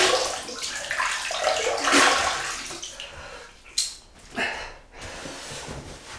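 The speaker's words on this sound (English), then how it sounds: "Put down the water, we'll wet the face." Water splashed onto the face before a wet shave, with broad watery splashes peaking around two seconds and a few sharper sloshes later, close and fairly soft with no talk.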